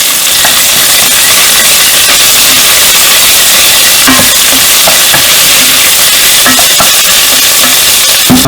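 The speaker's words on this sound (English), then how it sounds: "Now next to go is cauliflower, because cauliflower is also a relatively hard vegetable." Cauliflower and carrots frying in a pan, a loud, steady sizzle with scattered crackles and the occasional scrape of stirring, and no voices.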